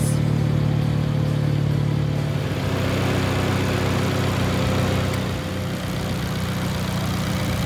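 A Fiat 500 Abarth's 1.4-liter four-cylinder engine idles steadily and close by, with a low hum that shifts slightly after a couple of seconds and then settles.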